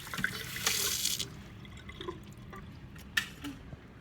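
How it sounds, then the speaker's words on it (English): Water runs from a sink tap into a cup in a quiet indoor room, a soft splashing stream followed by faint trickles and a few drips. "So I'm going to go to the sink and fill it with water."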